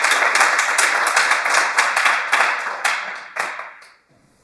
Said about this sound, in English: Let's do, for starters, a round of applause.